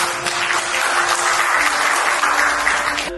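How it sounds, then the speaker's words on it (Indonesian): Loud, close applause from a room full of people at an Indonesian speech event, continuous for a few seconds, with a faint tone humming underneath. "Tepuk tangan nggak apa-apa."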